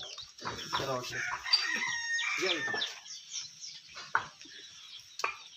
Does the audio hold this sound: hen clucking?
yes